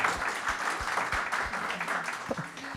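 Audience applause, a steady patter of many hands clapping at moderate volume that carries through the short stretch with faint talk underneath.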